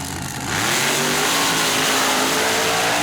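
A blown alcohol dirt dragster engine at a mud drag racing event surges from a lower idle into a loud, sustained, harsh roar that holds at full volume.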